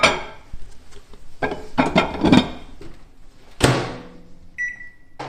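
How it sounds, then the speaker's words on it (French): Prawns cook in a microwave at 900 watts, maximum power, under a Vapo Saveur steam cover. Close clattering knocks and a door-like thump are followed by a short electronic beep near the end. "cuire le tout à la cloche Vapo Saveur, 900 watts, énergie maximum"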